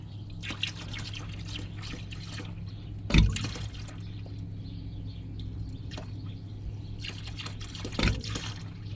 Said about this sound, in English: Right, draining, draining.